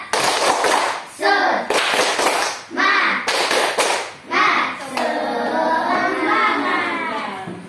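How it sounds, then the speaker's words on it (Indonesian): A classroom of students does a rhythmic spirit clap before group presentations, bursts of clapping in patterned groups with chanted voices, ending in cheering and talk. "tepuk semangat terlebih dahulu sebelum presentasi ke depan tiap kelompoknya"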